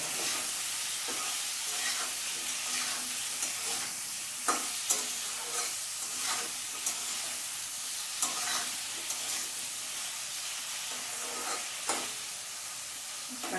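Potatoes sautéed with salt and turmeric in a pan for prawn curry, a steady bright sizzle punctuated by the scrape and knock of a spatula every second or so, fairly quiet and without talk.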